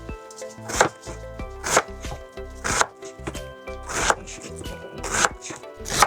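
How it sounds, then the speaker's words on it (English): A knife chops onions on a board for homemade spaghetti sauce, sharp close thuds in an uneven rhythm of about a dozen strokes, with soft music playing underneath. "First, I'm chopping all the onions"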